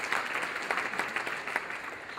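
Conference audience clapping steadily for a speaker at a student leadership event, a continuous patter of applause from a crowd.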